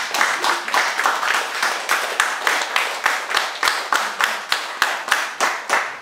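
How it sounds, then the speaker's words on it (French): A church congregation claps hands together in a steady, rhythmic beat, loud and close, with no talking over it. "Applaudissons pour lui."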